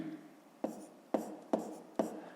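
A pen writes numbers by hand during a fifth-grade math exercise, a few distinct scratchy strokes spaced about half a second apart over quiet room tone, close by and with no talking.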